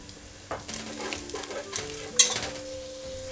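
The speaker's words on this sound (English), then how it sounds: "you can add in the flour and give it a good whisk" Flour is whisked into butter and rendered bacon fat in a pot. Quick metal whisk strokes scrape and rattle over a soft sizzle, with one sharper clink partway through, close up and with no voices.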